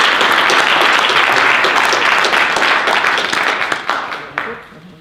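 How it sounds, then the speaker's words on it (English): A meeting crowd gives a retiring fire chief a warm round of applause. The clapping is loud and dense at first, then thins into scattered claps before fading out. "give him a round of applause after 36 years"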